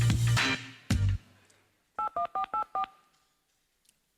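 Touch-tone telephone keypad dialing: five short, evenly spaced DTMF beeps, clear and close, following a brief burst of loud stage sound from a comedy sketch performance.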